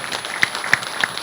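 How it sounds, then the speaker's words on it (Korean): Audience applause at a health-promotion forum in Yanggu County, Gangwon Province, a modest scattered patter of clapping with a few sharper, louder claps standing out near the microphone. "격려의 박수 부탁드리겠습니다."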